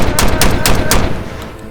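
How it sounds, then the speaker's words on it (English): A Rock Island VRF14 short-barrel shotgun fires four loud, close blasts in quick, even succession, followed by a fainter fifth report as the echoes fade. "I've shot the Rock Island VRF14 enough now to get a good feel for it"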